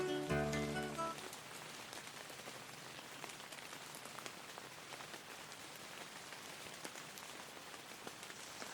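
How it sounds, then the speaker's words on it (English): Steady rain patters down continuously in woodland, soft and fairly faint, with a brief tonal sound at the very start and no voices. "So it's still raining. Actually, it's raining more heavily now"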